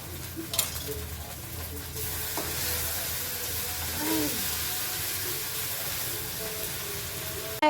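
Spice paste sizzling and frying in oil with intermittent stirring, a steady hiss filling the whole stretch, tomato paste being added partway through with a brief burst of heavier sizzle.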